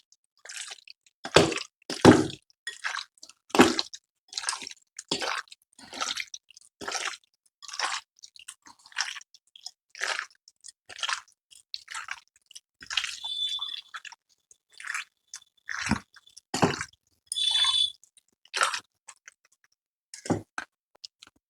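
Chicken being mixed by hand with peri peri masala and vinegar, giving close, wet squelching and squishing sounds in a steady series of separate pulses with no talking.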